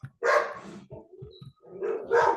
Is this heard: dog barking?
yes